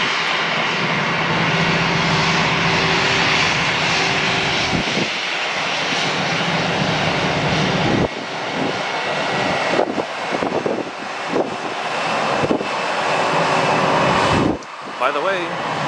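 A jet airliner taxis at Atlanta airport, its engines a loud, steady roar with a high whine, buffeted by wind noise and briefly dipping and surging near the end.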